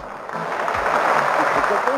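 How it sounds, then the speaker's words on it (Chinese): Audience applause at a panda acrobatics show, a steady wash of clapping throughout with a voice talking over it. "鼓掌"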